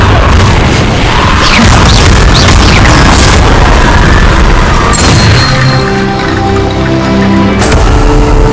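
Confringo fire spell in the Hogwarts Legacy video game, a loud, dense explosive blast with booming rumble and crackling debris that sustains for several seconds, then trails into a softer ringing tail.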